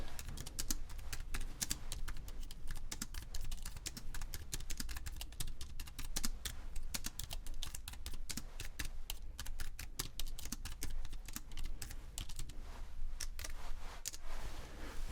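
Rapid, continuous keystrokes on a computer keyboard, close and crisp, with dense irregular clicks running the whole time and no talking.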